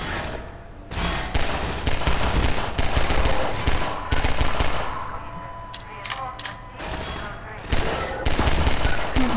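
Rapid machine-gun fire in the video game Half-Life 2, a loud dense rattle of bursts running almost throughout with brief gaps, a voice occasionally over it.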